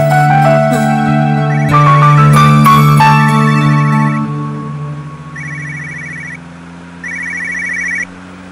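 A mobile phone rings loudly inside a moving car, its melodic ringtone starting strong and then repeating in short, quieter bursts over a low engine hum.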